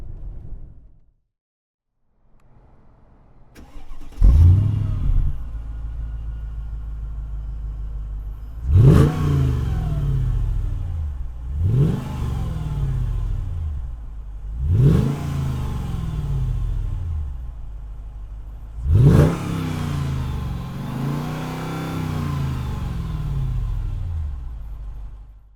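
2003 Mercedes-Benz CLK 55 AMG V8 engine idling low, then blipped through four sharp revs that rise and fall back to a deep rumble, loud and close.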